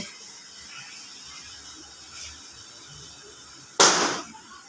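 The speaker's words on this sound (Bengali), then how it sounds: "বেলুন দুমদাম করে তো ফাটছে" After a few seconds of quiet room noise, one sharp, loud pop bursts out as a decorative balloon bursts nearby at a rice ceremony, then fades quickly.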